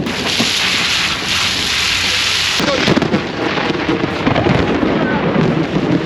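Outdoor thunderstorm with heavy rain, a dense hiss of downpour broken by deep rolling thunder rumbles that swell and crack partway through, close and loud with no talking.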